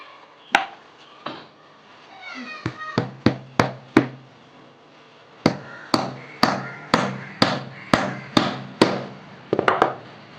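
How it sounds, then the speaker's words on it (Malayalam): Sharp close hammer blows drive a small nail into a wooden slingshot, a few scattered taps followed by steady rhythmic strikes, each ringing briefly. "ആദ്യഘട്ടം ചെറിയ ആണി കൊടുക്കുകയാണ് ഇവിടെ"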